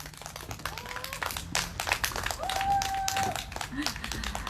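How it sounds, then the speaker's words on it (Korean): An audience at a Korean candlelight rally gathering claps in welcome, a moderate scattered patter of hands with a few voices murmuring underneath and a brief tone over it. "힘찬 박수로 모셔보도록 하겠습니다."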